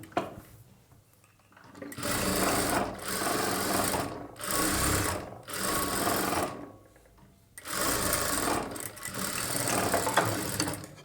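A sewing machine stitches a plain blouse sleeve in several loud, close bursts of running, separated by brief pauses, the longest run coming at the end.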